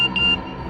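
A mobile phone message notification tone, a short, clear high electronic beep, pinging twice in quick succession, loud and close, with nobody talking.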